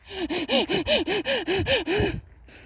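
A loose dog pants and breathes hard, making about nine quick rhythmic huffs in a steady series close by before it breaks off into quiet.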